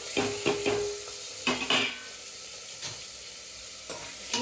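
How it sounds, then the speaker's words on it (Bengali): Tomatoes are added to a pan already holding chilli and ginger, giving a soft continuous sizzle broken by clinks and scrapes of a utensil against the pan. "এবার টমেটোটা দিয়ে দিয়েছি, এবার ভাজবে।"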